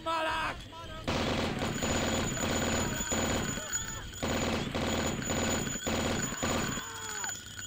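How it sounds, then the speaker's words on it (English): Gunfire from the retro first-person shooter Blood, a Dark Cathedral level in the Out of the Grave edition, sounds as a run of loud, closely spaced shots over a steady game backdrop, about eight sharp bursts following an opening sound. "they'll forget that there is Caleb here shooting at them from the window"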